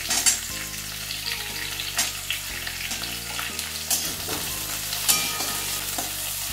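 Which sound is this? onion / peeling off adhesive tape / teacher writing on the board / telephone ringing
onion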